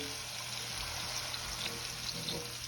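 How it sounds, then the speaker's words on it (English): Water pours steadily and faintly into a cooking pan for gravy, a continuous soft trickle with no talking. "I'm gonna pour a little water in here, start my gravy."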